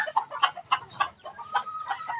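A laying hen clucks as it is set free on a farm, a series of short, fairly close clucks in an uneven rhythm with brief pauses between them.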